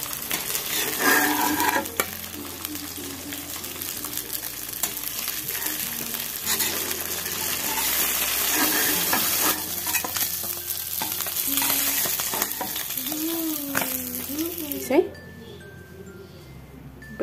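Fish fries in a pan, making a dense, continuous close sizzle with occasional stirring scrapes. A person talks over it, and the sizzle drops away sharply near the end.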